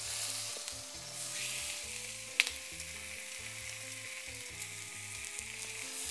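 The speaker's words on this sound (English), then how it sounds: "And we start to roast." Veal shank roasting in a pan over a strong fire, a steady loud sizzle and fry running throughout with a single sharp clink partway through.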